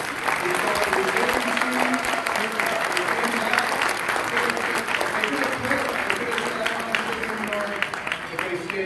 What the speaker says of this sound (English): how about a big round of applause one more time for all of our students